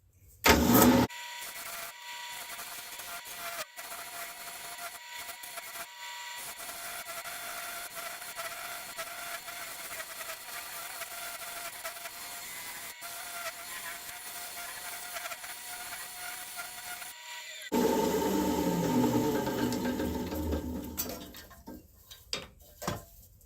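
A wood lathe turns a glued cherry and walnut vase, giving a steady broadband scraping hiss as the tool cuts for a long stretch, with brief pauses and a louder rougher passage near the end, close up and with no talk.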